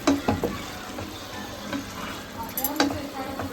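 Chicken sambar masala fries in a pan with a soft, steady sizzle, broken by a few sharp clinks and scrapes of stirring, fairly close and moderately quiet.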